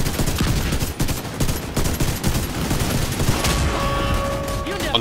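Enemy gunfire in The Secret World during the Operation Iron Horse raid: a dense, rapid fusillade of loud shots with chaotic battle noise, continuing throughout.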